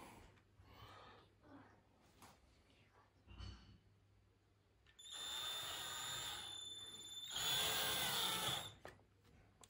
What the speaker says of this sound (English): So just screwing these down loosely to start